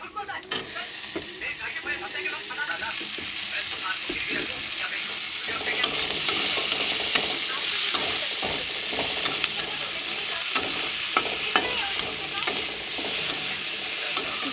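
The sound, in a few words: tomatoes frying and being stirred in a pan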